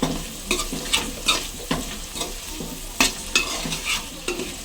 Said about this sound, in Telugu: అలాగే రుచికి సరిపడినంత కళ్ళుప్పు, అలాగే 1 టీ స్పూన్ కారం. ఇప్పుడు మిక్స్ చేసుకుందాము.